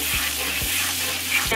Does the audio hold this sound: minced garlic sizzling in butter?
yes